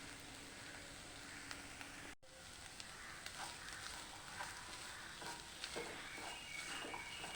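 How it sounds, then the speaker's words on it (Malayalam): Chilli and garam masala sautéing in a pan for samosa filling, a steady soft sizzle and frying hiss with light stirring scrapes throughout, briefly cut by a short gap early on, no voices. "ഒരു സ്പൂൺ ഗരം മസാലപ്പൊടി, ഇതെല്ലാം ഇട്ട് നല്ലതുപോലെ ഒന്ന് വഴറ്റിയെടുക്കാം"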